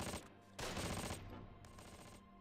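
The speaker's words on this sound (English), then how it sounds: "The MGs are kicking off." Machine guns fire in rapid bursts in the wartime tactics game Close Combat, loud sustained rattles broken by short gaps, with no talking.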